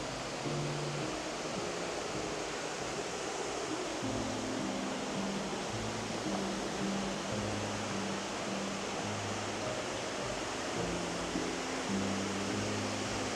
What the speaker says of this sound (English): Seeing the waterfall.